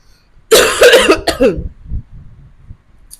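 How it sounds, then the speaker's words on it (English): A loud burst of harsh coughing, several hacks in quick succession, followed by softer throaty rasps and clearing that trail off. "I cannot fight this cough"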